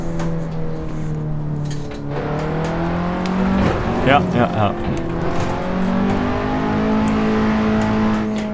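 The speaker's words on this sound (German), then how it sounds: "mit so einem schnellen Auto will man natürlich auch schnell fahren" Car engine revving and accelerating during a first driving lesson, heard from inside, steady and loud with rising pitch and a brief surge mid-way, while people talk quietly.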